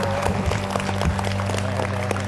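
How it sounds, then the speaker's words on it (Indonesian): An audience at an evening event in Banjarmasin gives a round of applause, dense continuous clapping over a steady low hum, with voices and music blending in. "Kita beri tepuk tangan dulu untuk Banjarmasin."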